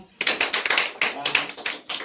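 Audience at a school stage play clapping for actor Mohit Kumar, playing the role of the sage Rishi, a close, crisp run of rapid claps with a short quiet gap before it starts.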